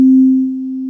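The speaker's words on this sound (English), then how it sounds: "So that's a nice long sustained note, right?" A single pure, steady sine-wave tone from an SP404 MK2 sampler holds at one pitch, loud at first and then settling slightly softer, with nothing else around it.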